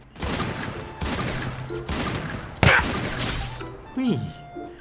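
Gunshots in a shooting video game come as four evenly spaced sharp bursts, one louder crack in the middle, under someone talking.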